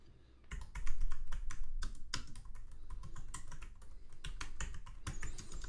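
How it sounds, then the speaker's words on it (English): Rapid, uneven keyboard typing at close range, a steady run of sharp key clicks with brief pauses, no voices. "you hear the keyboard in the background as I'm typing"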